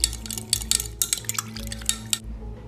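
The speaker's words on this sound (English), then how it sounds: "Stir it up real good to make sure everything blends in really" A spoon stirs a bowl of barbecue sauce mixed with chili and minced garlic, giving a quiet run of scraping clinks against the bowl at an irregular rhythm, with a low hum underneath.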